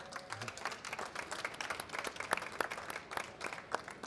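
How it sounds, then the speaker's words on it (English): A conference audience applauds at an anniversary event celebrating a telecom benchmarking firm, a steady wash of many hands clapping with scattered sharper claps throughout, moderately loud and without talk. "So I beg you for a warm applause for"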